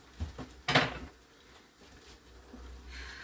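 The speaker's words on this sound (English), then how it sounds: "now I'm just going to pull my jars out" Glass canning jars of pears lifted from a boiling-water canner on a stove make one sharp clink of glass, a few softer knocks and dripping water, close up and quiet.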